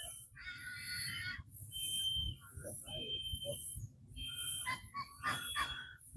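A person whistles imitations of bird calls outdoors by the water during a fishing session, in short tonal bursts spread across several seconds, while real birds chirp around and low wind and handling noise run underneath.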